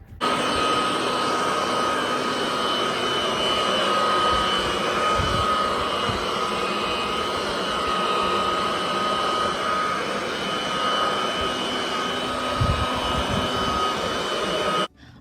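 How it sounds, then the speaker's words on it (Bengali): A snow-clearing machine runs outdoors in a bitterly cold Boston snowstorm, giving a steady, loud motor drone with a whining tonal hum that holds evenly for the whole stretch, with occasional low thumps. "আজকে তো মেশিন দিয়ে পরিষ্কার করতে হবে তার জন্য মেশিন বের করাও হলো"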